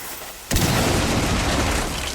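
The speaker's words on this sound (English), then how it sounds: "just put a Thermite next to it, blow it open" A Thermite breach charge in Rainbow Six Siege goes off abruptly after a quiet moment, a loud close blast that settles into a sustained roar of debris and noise lasting well over a second.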